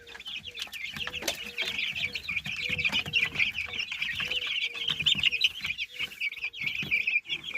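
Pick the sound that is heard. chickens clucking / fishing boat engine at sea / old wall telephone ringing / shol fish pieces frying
chickens clucking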